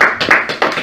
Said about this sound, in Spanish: ¿Por qué no le da un aplauso a Dios?